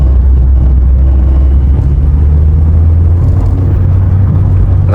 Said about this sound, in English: Now it feels fun to drive this car